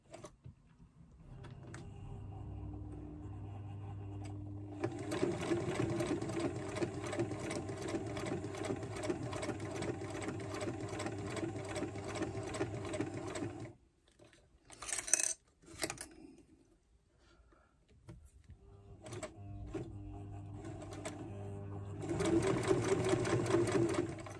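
A domestic sewing machine is run with a small foot pedal in long, fast, steady bursts. The close, rapid mechanical stitching pauses for a few seconds with some clatter, then starts up again.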